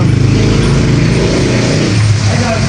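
Steady, loud Manila street traffic, with vehicles rumbling past continuously and close by.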